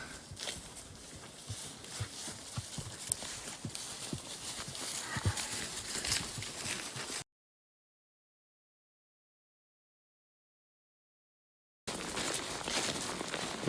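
Horses ridden back into a hunting camp give off a steady clip-clop of hooves against a busy outdoor background. The sound breaks off into a stretch of silence, then the hoofbeats resume.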